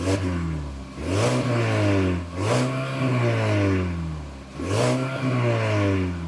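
Mazda CX-30 with an aftermarket sport exhaust revved three times while idling, each blip rising sharply then falling back, loud and close.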